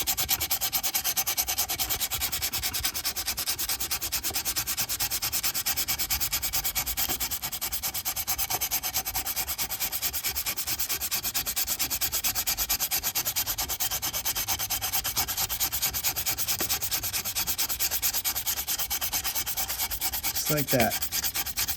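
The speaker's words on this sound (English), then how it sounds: "So now I'm going to scratch like this." Stainless steel trim is hand-sanded with 320-grit paper in a continuous, even scratchy rubbing that runs steadily throughout, close and moderately loud, with a brief spoken remark near the end.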